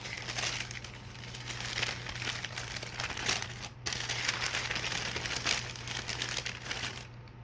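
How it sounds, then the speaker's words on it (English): Packaging for a Maniology nail product is unwrapped, giving continuous close crinkling and crumpling of plastic wrap with a few sharper tearing crackles throughout. "And then we're going to unwrap it."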